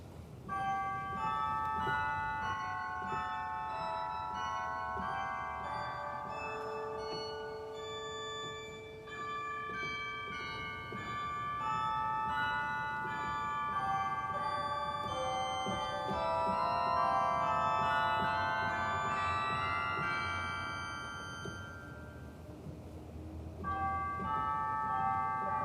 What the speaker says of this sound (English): We have chimes.